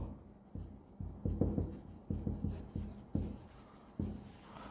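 A marker or chalk writes on a board during an accounting lesson, producing a series of close, distinct taps and scratchy strokes in an irregular rhythm, with no voice heard.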